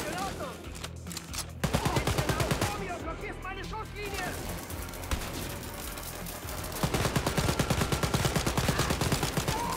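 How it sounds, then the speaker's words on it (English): Rapid automatic gunfire from an enemy turret in the video game Wolfenstein: Youngblood, loud dense bursts that continue through the clip and intensify toward the end, with players talking over it. "Oh, it's one of those fucking turrets."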